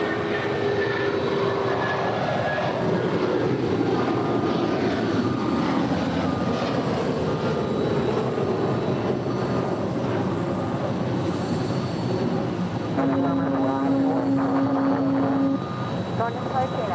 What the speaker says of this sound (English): Taking off there on 25 right was United Airlines flight 1029 heading to Denver